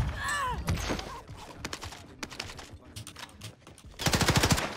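Rapid bursts of gunfire in an online multiplayer shooter game, a run of sharp cracks near the start, scattered shots through the middle and a dense closing burst of automatic fire, loud and close.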